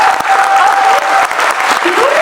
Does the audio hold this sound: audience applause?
yes